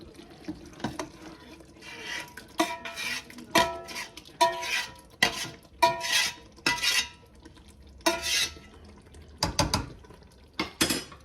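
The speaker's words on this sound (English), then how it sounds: "I'm going to add that spinach." Spinach tipped into a pot of saag gosht (lamb) and turned with a spatula: irregular bursts of metal scraping and clattering against the pot, close and fairly loud, separated by brief quieter gaps, with no talking.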